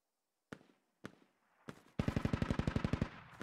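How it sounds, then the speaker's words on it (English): An MT-LB armored vehicle in the Squad video game fires at sandbags, with three separate heavy shots followed by a rapid automatic burst of evenly spaced rounds, loud and sharp with no voices. "That MTLB is just peppering through them sandbags."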